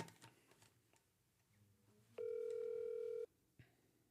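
A telephone tone while dialing a call: one steady electronic tone lasting about a second, heard alone between faint clicks and background noise.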